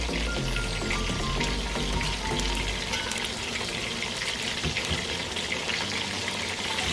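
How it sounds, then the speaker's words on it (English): Chicken pieces frying in oil in a pot for Jamaican fricassee chicken give a steady, loud, close sizzle and crackle that runs the whole time without pause. "I'll let this fry."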